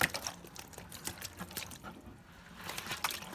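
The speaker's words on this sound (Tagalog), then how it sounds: "Buhos natin ito sa planggana." Freshly caught fish tipped from a container into a basin at home, giving a wet, splashing pour with scattered slaps and trickles, moderately close and fairly quiet.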